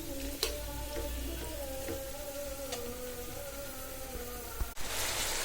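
Potatoes frying in a pan for aloo bhaji, with mashed-in spice and fish roe to follow, giving a steady close sizzle with occasional crackles and pops throughout, a low hum underneath, alone with no talk.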